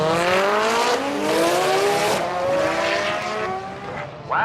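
A Nissan 200SX drag car accelerates hard at a drag racing event, its engine pitch climbing steeply through the gears, loud and sustained with no voices.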